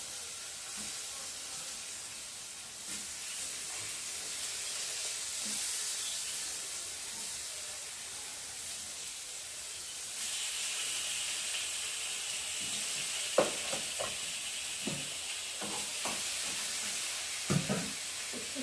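Banana slices, cut into rounds, fry in a little oil on a tawa with a steady soft hiss and sizzle throughout, and a few louder pops and clicks near the end.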